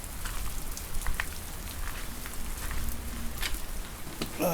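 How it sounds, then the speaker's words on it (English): Steady, dense pouring rain patters and hisses without a break in California, with occasional sharper drops and a brief low hum partway through. "it's me trying to capture thunder in the pouring rain"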